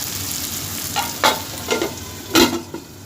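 Mutton cooking in oil for a Hyderabadi dum biryani, a soft sizzle broken by a few short stirring scrapes and bubbling bursts, close and fairly loud.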